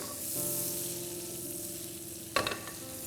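Butter sizzling in a pan for a street-style tak-a-tak omelette, a steady close frying hiss throughout, with a brief louder clatter of burst near the end.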